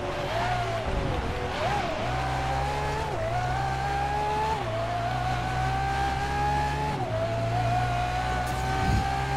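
A Ferrari FXX race car engine in the video game GRID, at the Sepang circuit, revs and shifts through gears in a steady, loud whine, with faint tire squeals now and then.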